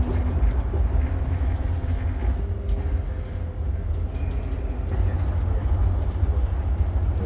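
Inside a moving tram on the Belgian coast line, a steady low rumble and rolling hum carry on throughout, with faint rattles and squeaks over the constant drone.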